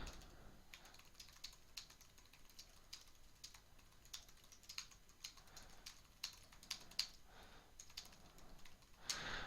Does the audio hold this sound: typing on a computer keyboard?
yes